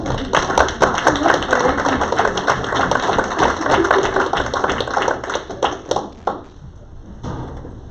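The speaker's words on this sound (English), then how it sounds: "let's give her a round of applause" Audience members at a city council meeting clap for several seconds, a crisp but modest round of distinct individual hand claps over a steady room hum, thinning out and trailing off at the end.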